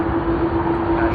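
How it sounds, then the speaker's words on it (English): A Cathay Pacific Airbus A350-900 starts its takeoff roll at Sydney Airport, its jet engines giving a steady, loud roar with a sustained tonal hum heard from a distance, with no voices. "CX162 of Cathay Pacific to Hong Kong on the A350-900 has begun its takeoff roll. We can hear the engines working nice and hard."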